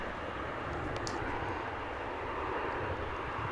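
An Airbus A321 airliner arriving at DFW airport makes a steady, droning jet rumble at moderate distance, continuous and unbroken, with no talking.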